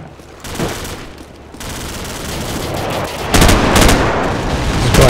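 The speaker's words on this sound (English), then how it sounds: "Friendly airstrike on the way!" In a Call of Duty 4 multiplayer match, gunfire crackles continuously while an airstrike's heavy blasts land partway through, loud and close, with no talking.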